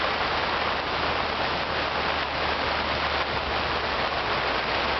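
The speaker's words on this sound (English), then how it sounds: "and boom, the rain hit." Heavy rain pours down steadily and loudly outdoors at a campsite, a dense continuous hiss with a low rumble beneath, with no voices.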